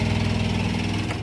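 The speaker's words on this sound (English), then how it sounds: "I don't want to listen to his lawnmower all night." A neighbour's lawn mower engine runs steadily, a continuous droning hum with a low throbbing pulse, loud and unbroken throughout.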